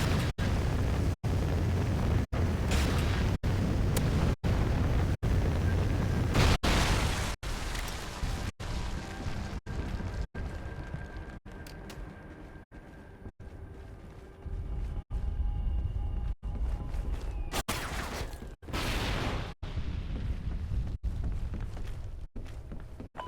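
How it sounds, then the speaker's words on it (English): Heavy Trinity rocket strikes from the shooter Call of Duty: Ghosts rumble and crash in repeated deep booms, loud and close, with rattling debris and a lingering roar between the hits. "Friendly Trinity rocket inbound"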